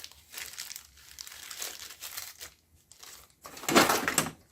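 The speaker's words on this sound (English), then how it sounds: "Is that another bag of push pins?" Close crinkling of a plastic bag of push pins in a shop, handled in several bursts of rustling with short pauses, ending in a louder, sharper crumple.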